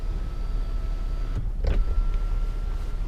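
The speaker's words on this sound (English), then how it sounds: "We got the panoramic sunroof with the power shade." Power motor of the panoramic sunroof and shade on a 2017 Nissan Murano AWD Platinum, a faint soft whir with a brief mechanical thunk inside the cabin over low background noise.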